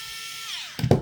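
Electric screwdriver whirring steadily while backing screws out of a Traxxas TRX4M RC crawler axle, ending in two short, louder mechanical bursts as the screw comes free, close up.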